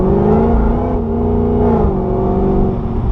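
A Cadillac CTS-V Wagon engine roars loud and close under throttle, its deep exhaust note swelling and dipping as it revs with sharpened throttle response, with no talking.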